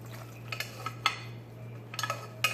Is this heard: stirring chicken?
yes